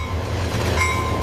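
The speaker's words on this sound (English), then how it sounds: "Trains pull double-stacked containers hauled by high-power locomotives, carrying far heavier loads than the old tracks allowed." Freight train hauling double-stacked containers behind high-power locomotives, a steady loud low rumble with rolling wagon noise and a faint high squeal, continuous throughout with no voices.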